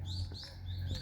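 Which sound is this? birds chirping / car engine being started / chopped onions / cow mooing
birds chirping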